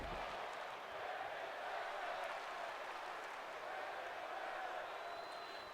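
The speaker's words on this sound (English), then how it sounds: "Crowd getting behind this one." A crowd at an independent wrestling event cheers in a steady, sustained roar, moderately distant and reverberant, with no clear breaks.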